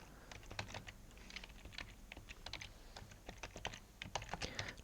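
Fast, quiet typing of CSS code on a computer keyboard, heard up close as uneven runs of light clicking keystrokes with no voice.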